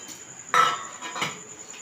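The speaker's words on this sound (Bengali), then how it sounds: "এইভাবে নাড়তে থাকবো একটু।" A spoon stirs a sweet ground-nut mixture in a pan, making a couple of brief metallic scrapes and clinks close by over a faint steady hum.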